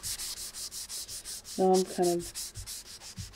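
Pencil shading rubbed and blended on paper for a shaded cube drawing, heard as a steady series of soft, close, rhythmic scratchy strokes, with a brief murmur of speech partway through.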